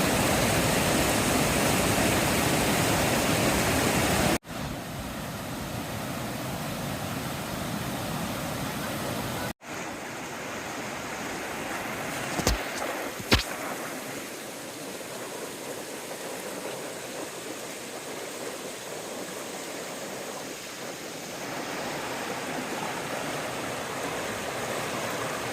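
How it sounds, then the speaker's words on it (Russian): Steady rushing of a forest river over rapids, loud and continuous, with a couple of brief knocks partway through. "Речка такая лесная идет."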